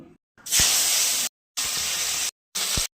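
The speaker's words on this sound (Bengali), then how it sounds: "এবার মাছগুলো হলুদ লবণ দিয়ে ভেজে নেব, তুলে নেব।" Pieces of fish coated in turmeric and salt fry in hot oil in a wok, giving a loud, steady hissing sizzle in three separate bursts with short silent gaps between them, with no talking.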